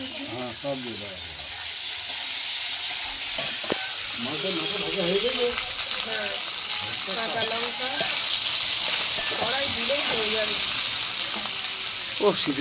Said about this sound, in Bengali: পাঁচফোড়ন ফোড়ন দিয়ে দেবো কুচানো পেঁয়াজ